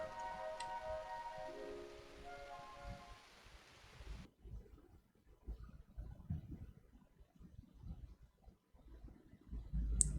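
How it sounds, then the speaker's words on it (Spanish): Steady soft rain in the video game Dragon Quest 8, a faint pattering hiss with scattered light drops, quiet and continuous, with a brief melodic chime early on. "La lluvia continuó cayendo hasta el alba"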